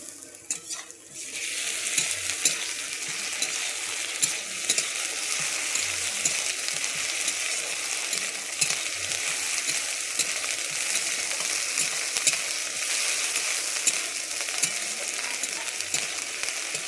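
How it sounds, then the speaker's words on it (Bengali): Ground garlic paste frying with already-browned onions in a pan for a prawn and mushroom curry, a steady loud sizzle running throughout with occasional scraping stirs, no voices. "আমি এর মধ্যে দিয়ে দিচ্ছি রসুন বেটে রাখা রসুনটা দিয়ে দিচ্ছি"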